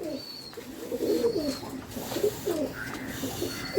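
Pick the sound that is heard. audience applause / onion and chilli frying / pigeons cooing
pigeons cooing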